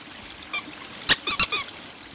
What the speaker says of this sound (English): Yeah, so we got a little squeaky hedgehog.